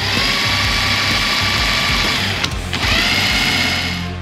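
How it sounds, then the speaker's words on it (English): A drill spins an old BTH motorcycle magneto clamped in a vise, giving a loud, steady mechanical whir with a rhythmic ratcheting clatter that briefly dips and resumes. "Just throw it up in the vise, put a drill on the end of it"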